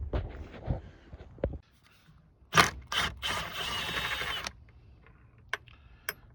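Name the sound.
ratchet wrench loosening 12 mm bolt to remove car battery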